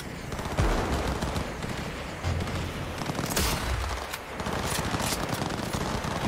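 Sustained automatic gunfire in the video game Cyberpunk 2077, a dense, continuous rattle of shots at mid distance with a few louder surges, filling several seconds without talk.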